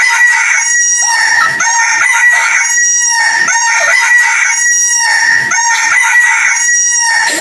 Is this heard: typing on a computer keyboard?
no